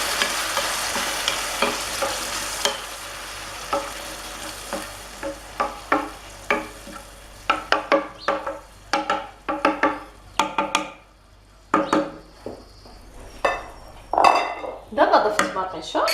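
Tomato is added to red peppers frying in a pot with a steady sizzle, and a spoon stirs in repeated scraping, clinking strokes against the metal that grow sharper and more frequent toward the end. There is no speech.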